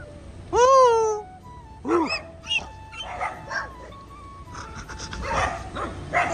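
Dogs bark and yelp in a few loud, sharp bursts near a troop of monkeys, with one long howling whine at the start followed by scattered shorter calls close by.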